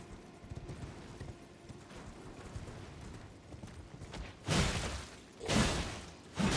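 Horse hooves galloping in the video game Elden Ring, a fast steady clip-clop rhythm near and moderately loud, broken by a few louder whooshing bursts toward the end.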